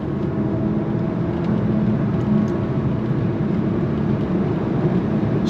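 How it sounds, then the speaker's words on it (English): A 2025 Alfa Romeo Tonale Tributo Italiano plug-in hybrid SUV with a 6-speed transmission drives along, heard from inside as a steady, moderately loud low engine and road drone with no distinct shift or speech. "Smooth shift from the 6-speed."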